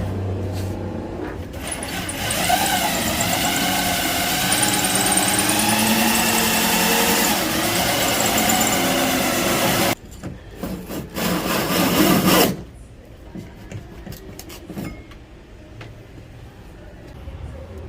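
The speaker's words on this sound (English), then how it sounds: "let's drill from the other side" A drill bit bores through a Pursuit 385 Offshore boat hull during a Taco outrigger install, a loud steady grinding whine for about ten seconds, then a short burst before it drops away to quieter handling noise.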